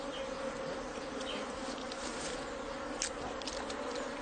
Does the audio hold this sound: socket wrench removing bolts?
no